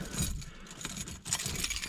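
Car keys jangle as they are pulled out near a Honda Civic, a loose metallic clinking that rattles on and off throughout at close range with no talking.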